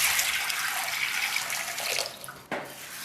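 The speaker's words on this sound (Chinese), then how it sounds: "把红豆抓洗干净" Red beans are rubbed and rinsed by hand in a bowl of water, a steady close splashing and sloshing that eases off before a final swish.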